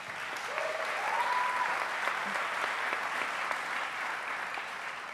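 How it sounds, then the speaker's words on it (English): Steady, sustained audience applause fills a hall at the 2013 Silicon Prairie Awards, a dense wash of clapping at even loudness throughout, with a brief whistle rising over it early on. "So how about a round of applause for Andy?"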